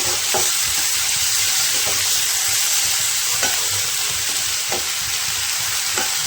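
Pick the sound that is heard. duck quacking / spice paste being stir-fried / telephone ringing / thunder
spice paste being stir-fried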